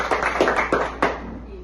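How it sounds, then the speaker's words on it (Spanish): A few scattered hand claps in a podcast studio, four or five quick sharp hits close to the microphone, brief and fading into quiet. "Un aplauso, de verdad."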